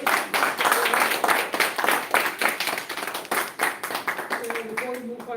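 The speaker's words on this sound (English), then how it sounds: "Let's have a big round of applause." A small audience at a Toastmasters club meeting claps in a round of applause, with distinct, closely spaced hand claps that thin out toward the end as a voice begins speaking.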